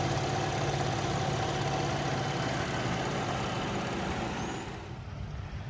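A 2017 Buick Enclave's 3.6-liter V6, with 129,000 miles, idling smoothly and steadily under the hood, a quiet even hum that fades a little near the end, with no speech.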